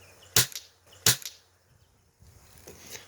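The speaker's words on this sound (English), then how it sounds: "pull trigger once, it'll shoot one time." A Red Rider BB gun fires two sharp, close snaps about a second apart, followed by quieter mechanical clicking and handling noise.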